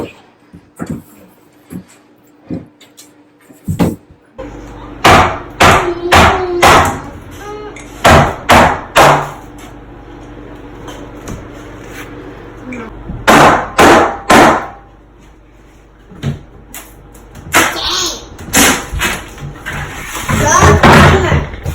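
A bathroom vanity is broken out during a home demolition, with loud banging, cracking and wrenching impacts coming in heavy clustered bursts, some sharp slams and a scraping rattle near the end, close by in a hard, echoing room.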